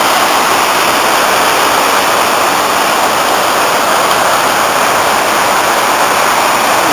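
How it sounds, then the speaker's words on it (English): Swallow Falls, a large waterfall near Betws-y-Coed in Wales, running high after rain, roars as a steady, dense, broadband rush of water that stays loud and unbroken throughout with no voices. "probably the most impressive waterfalls in Wales, the Swallow Falls,"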